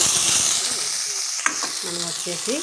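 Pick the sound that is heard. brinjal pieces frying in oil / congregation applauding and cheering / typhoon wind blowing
brinjal pieces frying in oil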